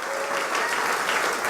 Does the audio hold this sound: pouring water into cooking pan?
no